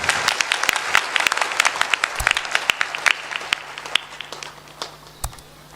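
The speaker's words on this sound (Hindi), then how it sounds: "एक बार जोरदार ताली बजाकर उनका भी अभिनंदन" Loud crowd applause from an audience at a spiritual discourse, dense clapping that builds and then thins out into scattered claps before fading.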